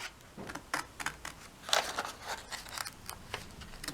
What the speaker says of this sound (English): So I'm just going to do a little cut and then open it back up so my scissors fit back in that hole